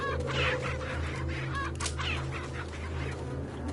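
Chickens clucking in Resident Evil 4, steady overlapping clucks and squawks from a nearby flock over constant game ambience, with no talking.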